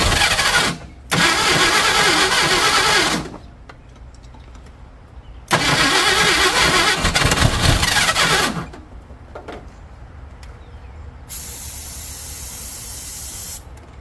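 An abandoned Ford F350 U-Haul rental truck engine cranks hard in two long bursts of starter churning, separated by quieter pauses with a faint idle-like rumble, then a thin high hiss near the end; no voices.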